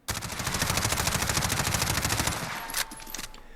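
An MP5K fires on full auto in Call of Duty Modern Warfare, a rapid, evenly spaced burst of about two seconds, followed by a few clicks and a short mechanical clatter as the firing stops.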